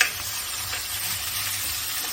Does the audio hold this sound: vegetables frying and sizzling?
yes